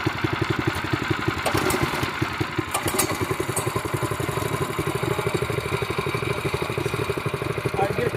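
A homemade four-wheel-drive minibike powered by two Predator 212 go-kart engines runs steadily with a loud, close, throbbing putter and occasional clattering, no speech.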